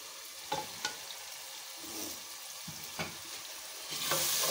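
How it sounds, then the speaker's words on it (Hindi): Spices roast in a pan with tinda sabzi, a continuous sizzle broken by several sharp spoon scrapes and taps, growing louder and brighter near the end. "इनको हम थोड़ा सा भूनेंगे।"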